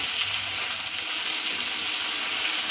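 Garlic paste sizzles in a hot pan while a spicy dried-fish curry cooks, a steady, close, hissing fry that holds evenly throughout with no talking.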